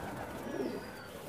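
A male pigeon coos softly in a pigeon loft, one brief low murmuring call against faint background hum.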